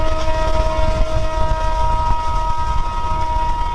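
Train passing near the Bhutan border, loud and close, with a continuous rumbling roll and clatter of wagons and a sustained tonal horn-like whine running over it throughout.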